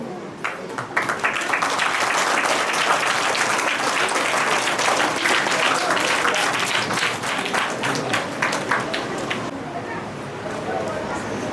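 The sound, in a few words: soft applause from audience welcoming the speaker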